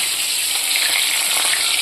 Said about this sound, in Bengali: এই যে ইলিশ মাছের মাথা ভাজা হচ্ছে